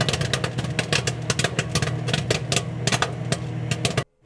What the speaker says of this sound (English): That's popcorn in the making